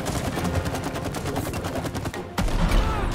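Sustained rapid shooting in the co-op video game It Takes Two, a dense, loud stream of repeated shots that breaks off for a moment and then starts again, with no talking.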